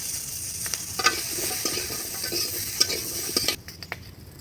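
Fish and beans frying in a pan are stirred with a utensil, a steady close sizzle with light scraping and clinking strokes, then the sizzle drops away near the end.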